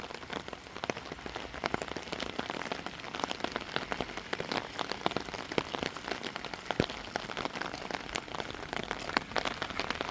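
Steady overnight rain pattering on surfaces, an even, continuous patter with scattered louder drops and no voices.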